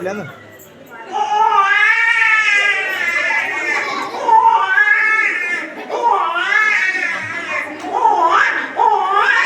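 A comedian at a village comedy show imitates a baby crying while being rocked in a cradle, letting out a run of high, wavering wails close to the microphone, with crowd laughter mixed in.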